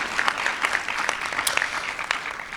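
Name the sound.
audience applause for conference participants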